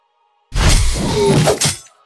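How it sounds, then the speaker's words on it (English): Tower destruction in the Arena of Glory mobile battle game: a sudden loud crashing shatter after a brief silence, a dense burst of breaking rubble lasting just over a second before cutting off. "Your tower has been destroyed."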